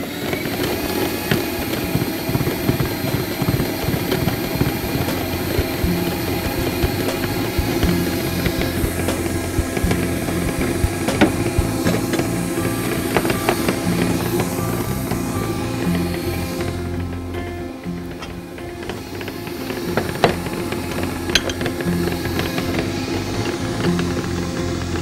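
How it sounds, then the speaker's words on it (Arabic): An electric mixer kneads dough at high speed, giving a loud, continuous motor drone with a rhythmic knocking that runs throughout and dips briefly partway through. "عجنها حلوة قوي قوي قوي قوي قوي، مدة قد ايه؟ مدة 10 دقايق، وهي بتتعجن حلو جدا على سرعة عالية مش سرعة متوسطة."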